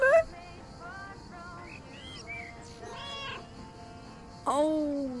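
A cat meows several times at moderate volume, with short rising and falling cries spread across the clip and a louder, drawn-out meow near the end.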